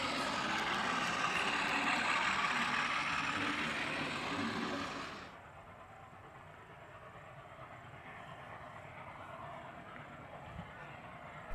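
A model train hauled by engine 6029, running on a layout with diesel assistance, rumbles loudly for about five seconds, then drops away to a quieter, distant rolling hum.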